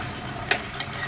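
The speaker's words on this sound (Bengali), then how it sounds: "খুবই আলতো করে নেড়ে দিলাম।" Hilsa korma being gently stirred in a sizzling pan, a steady frying hiss with a single short scrape of the spoon partway through, close and alone.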